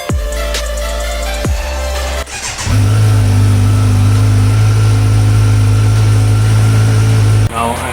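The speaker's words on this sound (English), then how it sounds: "Now I'm just allowing the bike to warm up, take a few minutes." A 2020 Kawasaki Z900 superbike idles while warming up, its engine holding a loud, steady, close rumble. A short burst of revving and handling noise comes first, and the idle then runs on evenly.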